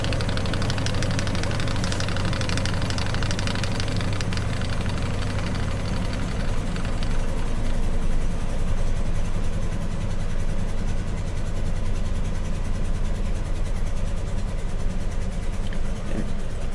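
A truck engine idles with one cylinder misfiring, a continuous dense rumbling drone that runs steadily throughout, close and fairly loud, with a slightly uneven beat.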